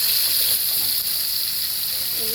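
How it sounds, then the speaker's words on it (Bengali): Hilsa fish frying in a pan on a home gas stove, giving a steady, close sizzle with constant hiss that runs without a break for the whole stretch and no one talking over it. "আর এদিকে হচ্ছে যে ইলিশ মাছ ভাজা হইতেছে"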